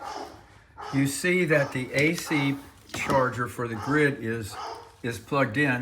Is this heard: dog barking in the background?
yes